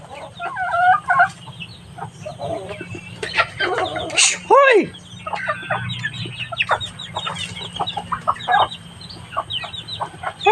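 Chickens cluck and squawk close by in a busy yard, with a voice talking over them and a sharp call rising briefly midway.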